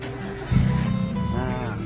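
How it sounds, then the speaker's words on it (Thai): A used pickup truck, cold after sitting parked for two days, starts its engine with a sudden low rumble after half a second of quiet and settles into a steady close idle, while a voice speaks over it. "ติดง่ายครับ จอดสองวันไม่ได้สตาร์ท"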